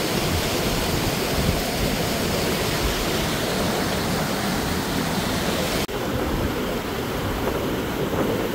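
A waterfall at a cold-water pool pours in a loud, steady broadband roar. The sound stays up close and unbroken, with a brief dip near the end, and no voices are heard.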